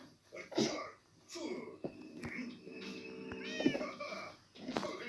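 A cat meows a few times in Minecraft, short mewing calls spaced across the clip with soft ambient background sounds.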